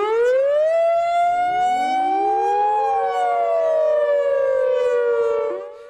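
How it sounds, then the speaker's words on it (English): A loud major emergency alarm siren wails, its pitch rising and slowly falling in a long sustained tone. "The major emergency alarm is a wailing siren that sounds like this."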